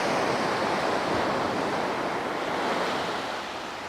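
Sea waves washing along the cliffs at Sandsend near Whitby, a continuous broad surf roar with wind noise over the microphone, steady and fairly loud throughout.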